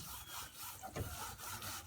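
A cured fiberglass resin surface covered in a white film is scrubbed hard, making steady, close, rasping back-and-forth rubbing strokes with a slightly heavier stroke midway.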